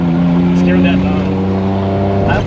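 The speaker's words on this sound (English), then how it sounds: "I love when this bypass valve sticks. That's the best sound in the world. Gotta love compressor surge." A turbocharged Suzuki Alto Works kei car with a sticking bypass valve drones at steady revs, and brief fluttering compressor surge rises near the end over the constant engine hum.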